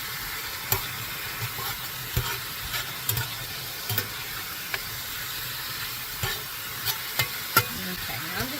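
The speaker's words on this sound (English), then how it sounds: "now it's time to add the rest of that seasoning. Get it all stirred up nicely." Beef stroganoff sizzles steadily in a cast iron skillet while a utensil stirs it, scraping and clinking against the pan at irregular moments over the constant frying hiss.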